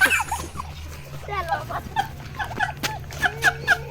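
A dog gives a string of short, high whimpers and yips, close and fairly loud, repeating in quick bursts while people talk over it.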